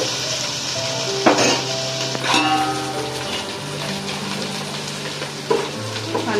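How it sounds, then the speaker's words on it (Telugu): Ginger-garlic paste frying in oil in a pan sizzles steadily up close, broken by a few loud clanks and scrapes of a spoon against the vessel, with no talk. "అల్లం కూడా వేగిపోయింది కదండి"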